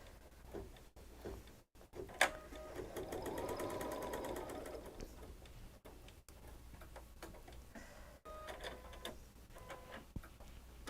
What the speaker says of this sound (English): the machine is going to stitch